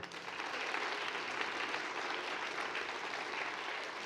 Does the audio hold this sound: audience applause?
yes